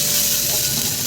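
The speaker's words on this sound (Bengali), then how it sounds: "এবার একটু রসুন বাটা দিয়ে দেবো।" A steady, close sizzle as garlic paste hits onions that have already fried to a reddish brown in hot oil, a continuous hiss with no voices.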